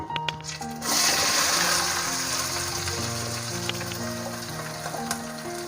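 Onions dropped into hot oil with cloves for chicken chukka, a sudden burst of sizzling that settles into a steady crackle, with some background tones and clatter.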